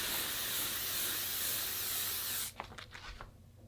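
L'Oreal Infallible setting mist bottle sprays a long, steady hiss for about two and a half seconds, close and even, then cuts off, leaving a few faint rustles.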